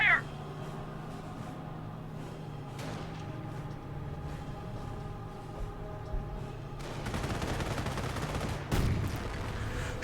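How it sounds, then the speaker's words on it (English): Gunfire and battle noise from the World War II strategy game Company of Heroes, with a sharp shot at the start, a steady rumbling bed, and a denser burst of fire and explosions toward the end. "And the bunker here is receiving some fire."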